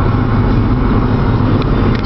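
A car driven by a new driver on a learner's permit, heard from inside the cabin as a loud, steady low rumble of engine and road noise throughout.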